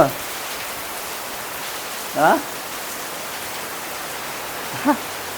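Heavy monsoon rain pours down in Tirupati, a dense, even hiss of downpour close by, with brief voices breaking through a couple of times.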